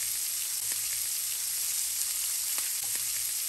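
Shrimp sizzle and fry in a pan for garlic shrimp and grits, a loud, close, steady crackling hiss with a few faint pops and scrapes.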